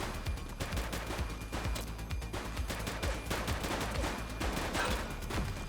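Gunfire in a police shootout in The Precinct, a steady stream of rapid shots at a moderate, somewhat distant level, continuous for several seconds with no voices.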